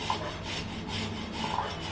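Cauliflower florets rubbed against a hand grater over a bowl, giving a steady, close rasping scrape in repeated strokes with no talking.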